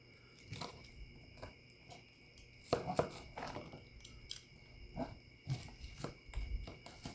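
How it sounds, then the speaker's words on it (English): A knife cuts into a hot slab of smoked baby back ribs from a Weber Smokey Mountain cooker, making faint crunching and slicing ticks at irregular intervals, close up and quiet, with no talk. "Let's go ahead and cut into this thinner slab."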